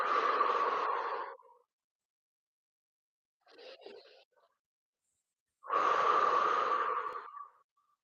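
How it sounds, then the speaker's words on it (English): Slow breaths drawn in through the nose and released out through the mouth during a pelvic floor exercise, three soft close breath sounds separated by silence, with no talking. "breathing in through your nose and then breathing out through your mouth"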